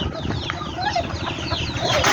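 Several chickens cluck and chatter close by on a rural farm, overlapping calls rising and falling over a busy outdoor background.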